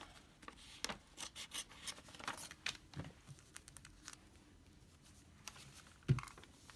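Scissors cut away excess red fabric and paper from a paper-pieced log cabin quilt block, a quiet, close run of irregular snips and rustling paper with brief pauses between cuts.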